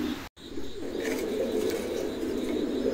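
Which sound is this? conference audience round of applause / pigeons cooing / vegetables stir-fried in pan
pigeons cooing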